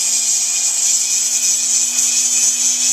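A Foredom rotary tool grinds and shapes the edges of a broken hammer, giving a steady, high-pitched continuous whine that holds evenly at close range throughout.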